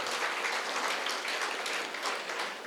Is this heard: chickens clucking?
no